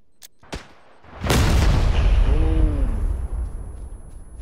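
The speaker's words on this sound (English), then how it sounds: "One more grenade just for good measure." Grenade blast in the PUBG video game, a few sharp cracks followed by a loud, deep explosion that rolls on and slowly decays, with no talking over it.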